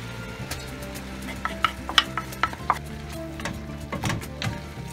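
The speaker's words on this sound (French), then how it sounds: "Je vais directement les ajouter à la poêlée." Soaked red lentils are tipped into a frying pan and stirred, with a soft scraping of the spoon and a light sizzle, punctuated by a few sharp clinks against the pan around the middle.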